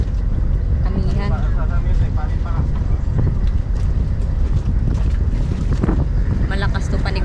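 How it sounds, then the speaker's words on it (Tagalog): Strong wind and rough waves batter a boat at sea on a blustery northeast-monsoon day, a continuous roar of gusts and water with people talking faintly underneath. "Malakas to yung hangin tsaka yung alon."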